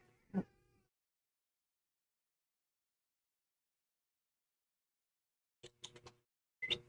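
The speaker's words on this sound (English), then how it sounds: "that cat angry noise is making me" Crackers the cat gives a short angry growl-meow, then after a long silence a few more brief yowling cries, faint and close.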